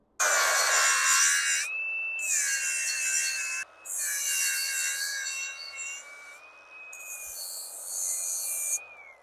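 Wood is sanded by hand to make a part fit, heard as four rasping back-and-forth strokes separated by short pauses. The scraping is close and fairly loud.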